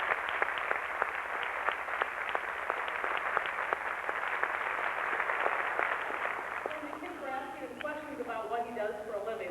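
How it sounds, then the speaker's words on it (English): An audience gives a steady round of applause, dense clapping sustained for several seconds before fading as a voice begins speaking. "Can we give her one more round of applause?"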